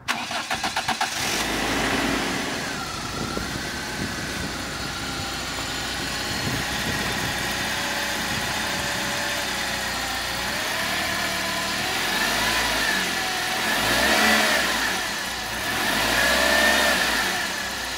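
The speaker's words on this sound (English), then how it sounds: "To you, the honors of trying the car, seeing if it starts." A BMW E36 cranks and fires up, then settles into a steady idle with a few rising revs toward the end. The engine is close and loud, and no one talks.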